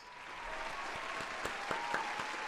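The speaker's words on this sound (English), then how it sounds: "Chad, we gotta give a round of applause for T Man" Canned applause played from a soundboard during a gaming podcast, a steady, fairly quiet crowd-clapping effect with a few sharper claps standing out near the end.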